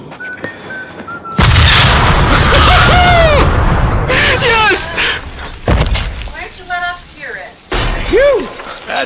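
A C4 explosion in the Deadpool video game, a loud close boom followed by rumbling debris, shattering and crashing, with a voice talking over parts of it.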